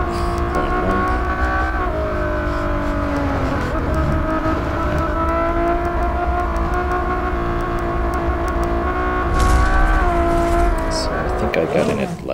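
A Ferrari LaFerrari engine drones steadily while racing in Real Racing 3, its pitch holding high with small dips during gear changes. A voice talks over the sustained engine sound.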